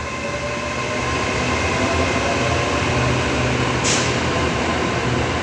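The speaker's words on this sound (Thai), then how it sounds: "ตามมาด้วยรถไฟฟ้าสายสีแดงนะครับ" An SRT Red Line electric train runs close by, a steady loud rolling rumble with a broad wash of wheel and motor noise throughout and a brief high squeal near the end, no voices.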